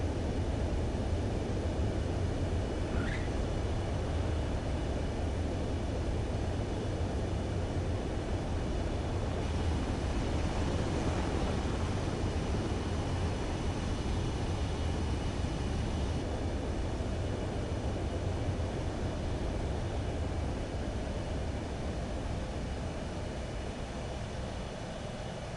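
Fighter jet engine on landing approach in the video game Ace Combat 7, a steady broadband roar held at constant loudness throughout, with no breaks or talking.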